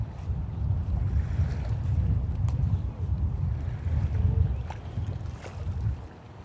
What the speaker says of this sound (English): Kind of got windy.